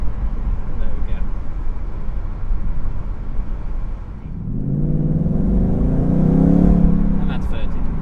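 Ford Mustang GT V8 in sport mode accelerating hard on the road: a steady low rumble swells into a loud, rising engine roar over the last few seconds.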